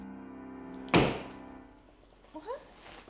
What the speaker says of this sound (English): she heard a loud knock on the front door.